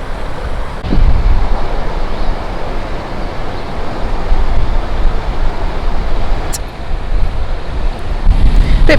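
Strong wind on a narrowboat buffets the microphone in loud, rumbling gusts over a continuous roar, with a few brief clicks and thumps.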